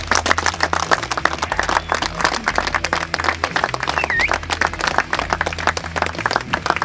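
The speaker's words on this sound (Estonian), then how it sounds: "teeme üheskoos teile endale aplausi" Crowd applauding at the opening of the new Pärnu skatepark, sustained dense clapping that stays loud and steady throughout, with a low hum underneath and a faint whistle partway through.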